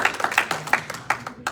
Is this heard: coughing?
no